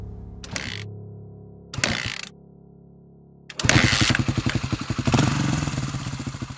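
A motorcycle engine starts with two short cranking bursts before catching and rumbling at a steady, close, fairly loud idle with a rhythmic pulsing putter, heard alone.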